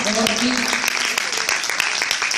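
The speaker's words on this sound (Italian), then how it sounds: "un applauso ancora" Audience applause at a live music performance, a dense steady wash of clapping filling the room, with a voice talking over it.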